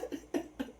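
A few quick coughs right after laughter, three short close bursts within under a second, fairly quiet.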